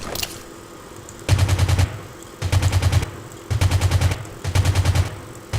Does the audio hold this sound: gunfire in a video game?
yes